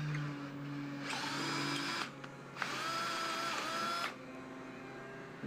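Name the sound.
drill running a 1/2-inch tap to clean threads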